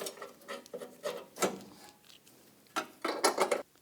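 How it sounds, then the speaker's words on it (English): Bolts threaded by hand into a splash shield bracket on a 2014-2018 GMC Sierra, giving a series of light metallic clicks and rattles close by, in irregular bursts with short pauses between them. "Now get the bolts started."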